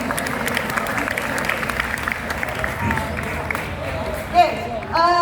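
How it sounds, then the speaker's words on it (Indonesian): A crowd of school students claps steadily for several seconds, a dense even patter of hands that fades slightly toward the end. "Oke, tepuk tangan buat semuanya."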